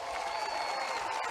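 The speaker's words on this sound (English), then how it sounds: "Give them a big round of applause." A crowd applauds at a Make America Great Again rally in Hickory, North Carolina: a steady, faint wash of clapping and crowd noise that sounds distant and sustained, with no distinct individual claps.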